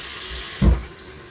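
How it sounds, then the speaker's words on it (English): Water poured into a container of frozen vegetables, heard as a short hissing rush from a tap that builds to a brief gurgling splash and then fades, close and fairly loud. "Next, add water."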